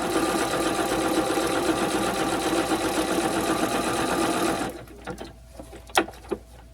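A sewing machine stitches a machine-appliqué zigzag at width 3 and length just over 1, whirring in a fast, even buzz for several seconds before stopping, followed by a few soft clicks and handling sounds.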